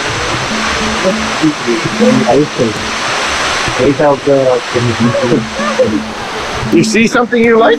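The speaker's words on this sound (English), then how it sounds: "the waterfall is beautiful." Waterfall at the Polynesian Cultural Center on Oahu, a steady loud rush of falling water filling the background while several people talk nearby over it.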